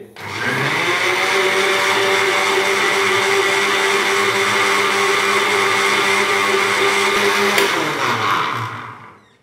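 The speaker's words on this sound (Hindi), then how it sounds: "दोबारा से इसको कवर करेंगे और इसको तकरीबन 1 मिनट के लिए दोबारा से हम ग्राइंड कर लेंगे।" A kitchen blender grinds mint lemonade for a minute, a loud steady whirring motor holding an even pitch for several seconds before spinning down and stopping.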